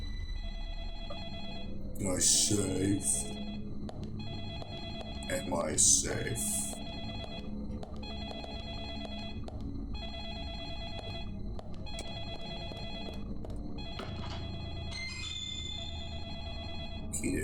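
A telephone rings in the video game Deadly Premonition, repeating in steady bursts of an electronic ring at roughly one-second intervals over a low background hum, while a person speaks briefly over the first few rings.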